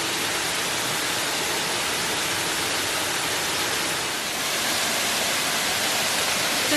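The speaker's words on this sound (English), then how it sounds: "So now we're at the second part of the Elakala Falls" Elakala Falls in Blackwater Falls State Park, West Virginia, pours in a loud, steady roar of rushing water that fills the whole moment without a break or any voices.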